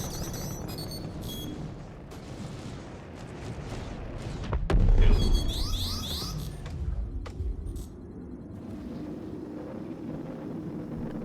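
A missile launches from an Aegis Eclipse in Star Citizen and strikes its target with a deep, loud boom that swells and fades, framed by sharp mechanical clicks and whooshing noise.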